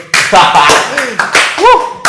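A few sharp hand claps from people in an Indonesian talk podcast, scattered among lively close conversation and voices.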